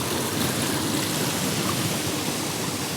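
A waterfall in a botanical garden in Yalta gives a constant dense rushing roar, close and unbroken, with no voices.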